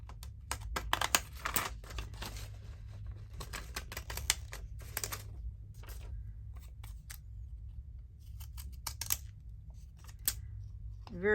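Edging scissors cut through paper in quick bursts of crisp snipping and crunching, close and faint, in irregular clusters with short pauses between them.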